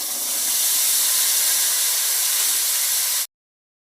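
Ground spices hitting hot oil with bay leaf, cumin and garam masala, producing a loud, steady hiss of sizzling that holds evenly and then cuts off abruptly.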